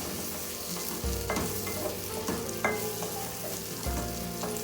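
Brinjal and elephant yam sauté in a pan for a tamarind curry, a loud continuous close sizzle with occasional stirring knocks and scrapes.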